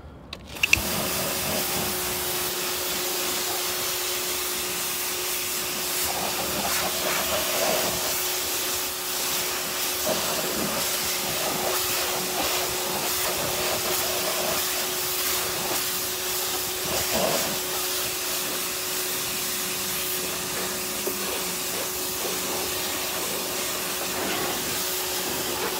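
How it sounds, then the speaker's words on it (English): Car wheels being sprayed down during cleaning give a steady, loud hissing spray that runs almost unbroken for the whole stretch after a brief opening knock, with no voices. "Spray it down."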